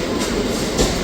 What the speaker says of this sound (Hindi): ट्रेन आ गई देखो ये वाली